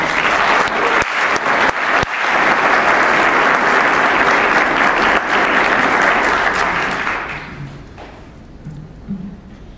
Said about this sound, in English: we give another round of applause for her